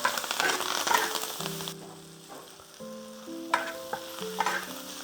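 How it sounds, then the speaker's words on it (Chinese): Cumin gluten and fresh coriander are stir-fried in a wok, giving a strong sizzle with brisk stirring scrapes, then the frying eases while a steady tonal melody plays over the quieter cooking. "香菜下锅以后一定要快速翻拌啊"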